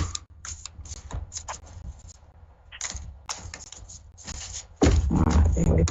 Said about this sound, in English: I'm just shuffling as we speak.